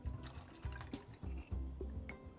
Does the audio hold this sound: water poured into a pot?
yes